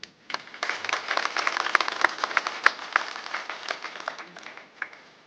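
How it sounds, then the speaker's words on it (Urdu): Audience applause at a religious gathering honoring a Quran scholar, a dense burst of clapping that swells quickly, holds steady for several seconds, then thins out toward the end. "اور تالیوں کی ایک گونج ہونی چاہیے"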